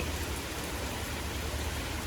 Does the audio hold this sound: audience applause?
no